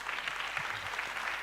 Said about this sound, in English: Let's give our strategic partners a round of applause